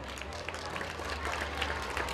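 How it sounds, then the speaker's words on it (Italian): A live audience at the Solanas venue claps for a singer about to perform, giving a brief, moderately loud patter of applause over a low background hum. "Facciamogli un applauso."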